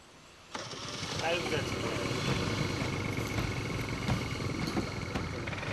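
A peddler's motorcycle in rural Cambodia starts with a sudden kick and settles into a steady, rumbling run that continues as it pulls away from a village, with voices faintly in the background.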